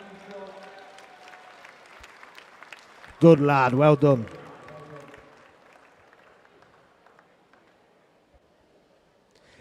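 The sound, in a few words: crowd cheering a swimmer at a swimming gala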